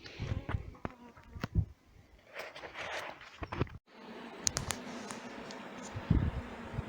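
Honeybees are scooped into a box and a cup, a steady close buzz of the swarm mixed with scraping and shuffling handling noises, with a brief pause partway through.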